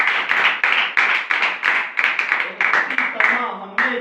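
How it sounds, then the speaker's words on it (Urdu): A church congregation claps loudly in a rapid, rhythmic run of bursts, with voices mixed in among the applause. "خدا کی پاک ذات کے لیے میں آپ کو کہتا ہوں زوردار تالیاں بجاتے ہیں"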